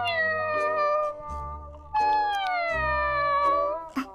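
A person's voice imitates a cat, producing two long, drawn-out mewing calls with falling pitch, close and clear, separated by a short pause.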